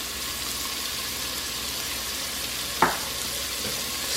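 Dried chives, black pepper and poultry seasoning fry in a soup pot, a steady close sizzle running throughout with one sharp scrape of a spoon near the end.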